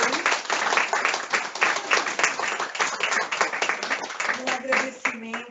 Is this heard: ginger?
no